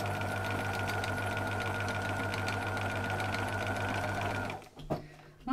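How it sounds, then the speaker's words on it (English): Sewing machine stitching along a line on a paper gift label, a steady close mechanical hum and rapid needle chatter that runs evenly, then stops with a couple of clunks near the end. "we're just going to pop it under the machine again. And we're going to stitch along that line again."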